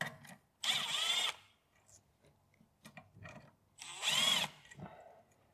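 A power tool backing out 10mm bolts on the boost solenoids of a Mitsubishi Evo X engine bay: two loud whirring bursts of about a second each, with softer clicks and handling noise between, close by and without speech.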